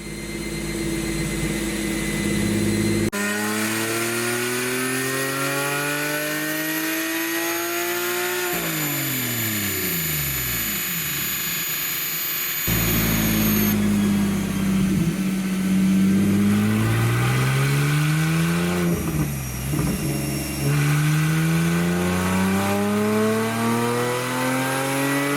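A Porsche 997 fitted with an ECG Performance catback exhaust revs hard on a dyno. Its engine note climbs in long rising sweeps, drops off, then pulls up again, loud and close, with no talking.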